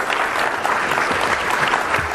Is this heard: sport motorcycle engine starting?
no